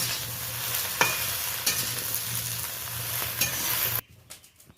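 Split okra sizzles steadily in a covered pan, a dense close frying hiss with a few soft clatters, then the sound drops sharply near the end to a quieter low crackle.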